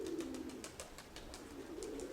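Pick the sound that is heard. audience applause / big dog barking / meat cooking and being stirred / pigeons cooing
pigeons cooing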